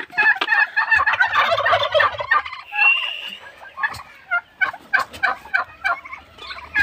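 A farm flock of turkeys in Shariatpur, Bangladesh, gobbles loudly and close up in repeated rattling bursts, with one call overlapping the next and short gaps between the later calls.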